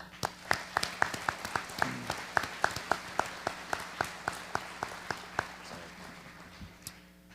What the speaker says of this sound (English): let's give a round of applause to the fire department and the EMS workers